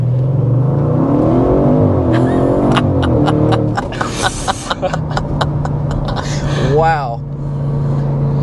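A 2025 Audi RS6 Avant with a twin-turbo engine pulls hard under acceleration, its loud engine note rising and surging up close while a person speaks over it.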